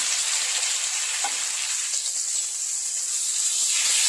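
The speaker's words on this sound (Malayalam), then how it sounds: "ഇതിലോട്ട് അരിഞ്ഞു വെച്ചിരിക്കുന്ന സവാളയും പച്ചമുളകും ഇട്ട് കൊടുക്കാം" Chopped onions and green chillies sizzling in a frying pan of hot oil for a quail egg roast: a steady, dense, close hiss that holds evenly throughout, with faint stirring ticks underneath.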